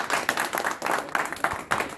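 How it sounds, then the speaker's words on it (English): An audience applauds chess player Dan Durham after his match win: a dense burst of many hands clapping, lively and continuous, with no voices over it. "Let's give Dan a big round of applause."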